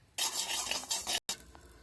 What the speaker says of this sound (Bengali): কটা পাঁচফোড়ন আর কটা রাঁধুনি ভেজে নেব।